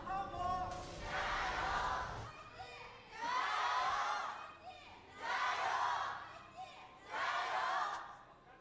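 Crowd at an LPL spring split League of Legends esports arena roars and chants in repeated swelling bursts, four loud waves of cheering with brief dips between them.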